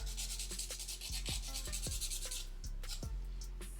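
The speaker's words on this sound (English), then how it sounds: "Alright, so that's all the filing I need to do" A nail file works over polygel nails during shaping, giving a steady, close, dry scraping texture in quick repeated strokes throughout, with a few light taps mixed in.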